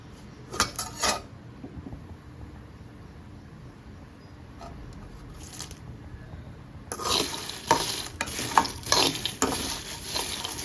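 Ayani chakka (jackfruit) seeds fry in a pan, a crackling sizzle with bursts of spoon scraping against the metal, quieter in the middle and louder, busier near the end, no speech.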